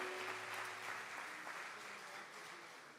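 Applause from a church congregation during a celebration service, a steady wash of clapping that fills the room from start to finish, fairly distant and evenly sustained.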